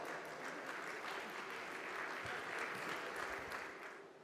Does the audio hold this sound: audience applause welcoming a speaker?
yes